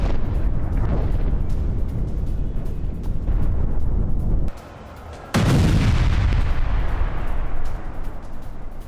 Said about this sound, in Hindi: दाहिया में इजराइल की बमबारी हुई है। ये देखिए जरा, हिजबुल्लाह के ठिकाने पर भीषण हमला हुआ है।